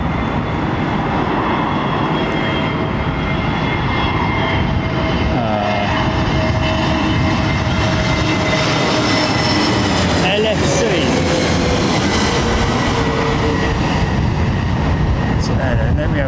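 A Dash 8 turboprop at London Heathrow Airport gives a loud, steady engine roar that holds throughout, with a faint tonal whine sliding across it and people talking underneath.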